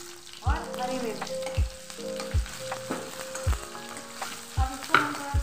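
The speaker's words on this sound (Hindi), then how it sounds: "चलिए अब हम लगाएंगे तड़का। सबसे पहले डालेंगे हम थोड़ा सा जीरा, फिर राई, फिर हम डालेंगे अपनी थोड़ी सी कटी हुई प्याज और हरी मिर्च।" Cumin and mustard seeds crackle in hot oil as chopped onion and green chili fry in a tempering, a steady close sizzle with repeated sharp knocks and scraping stirs, no talking.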